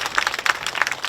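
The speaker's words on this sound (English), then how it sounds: "Let's give her a round of applause." An audience at a memorial ceremony claps, a brief spread of hand claps, moderately loud, lasting about a second.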